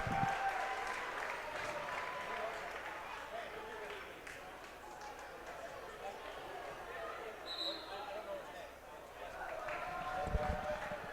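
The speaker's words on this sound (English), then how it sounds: "this crowd just went nuts" A high school varsity basketball crowd in a gym roars and applauds after a three-pointer that pushed a 30-point lead, a sustained loud wash of cheering with an announcer talking over it.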